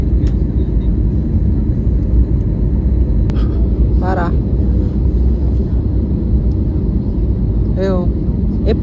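A continuous loud, broadband engine rumble from inside an airplane cabin, steady throughout with brief higher chirps and squeaks mixed in, while people talk faintly in the background.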